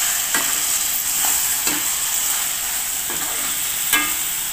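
Steady frying sizzle with a few soft spoon scrapes as curry leaves are stirred into garlic and ginger paste in a pan for mutton fried gravy, continuous and close with no talk.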